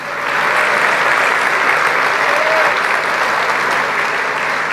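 A church congregation bursts into sustained applause that swells quickly and holds steady, a dense wash of many hands clapping together at close range.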